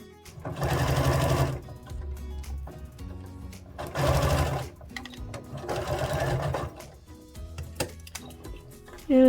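Sewing machine stitching fabric for an activity quilt cover, running in three or four loud bursts of rapid stitching separated by short pauses, close up with faint clinks between runs.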